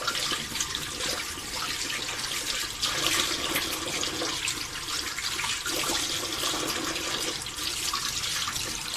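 Non-drinkable tap water in a Bangkok, Thailand bathroom runs steadily into a sink, a constant close hiss and splash without pause.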